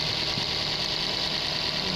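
Engine of a Daihatsu Gran Max van idling smoothly after its worn spark plugs were replaced, a steady close hum with an even, continuous drone and no talking.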